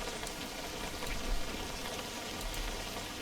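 Steady rain falls in the fishing game WebFishing, a dense continuous hiss of many drops with no voices, evenly loud throughout.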